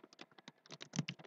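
Rapid computer keyboard typing while entering a spreadsheet formula in Excel, a quick irregular run of close, crisp key clicks with a slightly heavier tap near the end, no voices.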